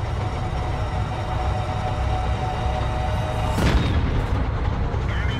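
A single heavy tank cannon boom from World of Tanks, a 100mm gun on a Type 59, cracks out over a constant low engine rumble, then a brief rattling echo follows.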